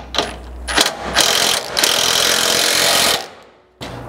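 Power tool driving a 9/16 socket on the front mount bolts of a Blitz slider on a Nissan Frontier, a loud close whirring rattle after a few short bursts, running steadily for about two seconds before stopping.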